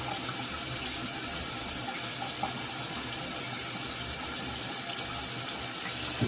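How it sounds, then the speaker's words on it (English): A faucet gushes loudly and continuously close by as a straight razor blade is wetted under the stream, a dense, unbroken hiss with no voices. "Get the blade wet."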